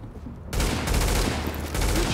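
Sustained burst of gunfire at hostile forces in The Division, erupting loudly after a quiet half-second and continuing as a dense, close volley to the end.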